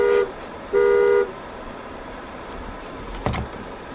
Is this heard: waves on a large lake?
no